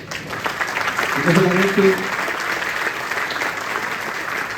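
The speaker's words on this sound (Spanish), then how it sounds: "Quiero pedir un aplauso para Juan Antonio González primero." A forum crowd applauds for a federal deputy, a broad wash of clapping running continuously while someone speaks over it through the middle.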